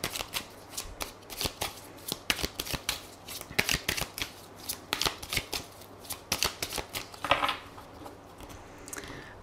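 Tarot cards are shuffled by hand in quick repeated riffling bursts, crisp and close, with short gaps between shuffles and a few soft card taps.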